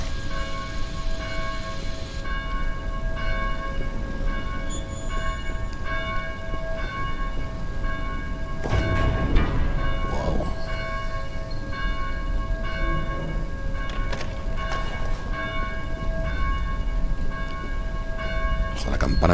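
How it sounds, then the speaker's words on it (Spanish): Church bells toll steadily in the Dead Island video game, a sustained ringing that layers with in-game noise and a busy background across the whole stretch, with a voice talking over it now and then. "Apaga las campanas."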